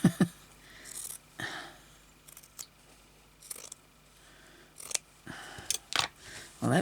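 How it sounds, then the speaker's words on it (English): Scissors cutting fabric pieces for crazy patchwork: a series of crisp, close snips at irregular intervals, some in quick pairs, with quiet rustling between them. "So I'm going to cut this up here. This along here. This piece can be cut too."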